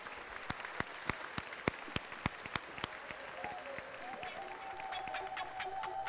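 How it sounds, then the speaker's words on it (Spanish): Audience applause welcomes a speaker to the stage, opening with a few sharp, separate claps that build into a faint, steady patter of crowd clapping heard from a distance. "Les quiero pedir que recibamos con un aplauso al señor Sergio Cuadros de Brasil, por favor"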